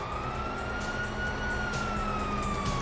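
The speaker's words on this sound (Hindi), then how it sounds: "ओ भाई बाहर सायरन बज रहे हैं" Police sirens wail outside during a bank robbery mission in the video game GTA V, a steady rising tone over a constant background rumble, with no one talking.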